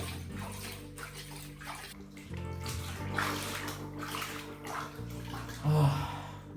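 Water sloshing and splashing gently in a bathtub during a soak, a soft continuous wash with small swirls and drips, close and fairly quiet, with no talking.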